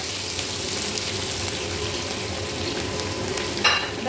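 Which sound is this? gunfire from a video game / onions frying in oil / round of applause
onions frying in oil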